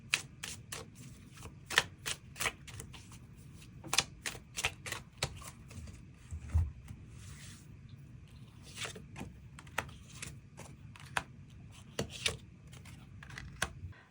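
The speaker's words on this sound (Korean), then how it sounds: "추가 카드 뽑아보도록 하겠습니다" Tarot cards shuffled and drawn by hand, a quick run of crisp flicking snaps and card slaps in bursts, close and fairly quiet, with short pauses between.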